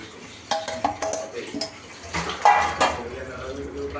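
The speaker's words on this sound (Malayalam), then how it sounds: "ഇത് മിക്സ് ചെയ്യും." Coarsely ground prawn chutney powder being mixed in a pan, with bright metallic clinks and scraping spoon strokes in irregular bursts, close and moderately loud.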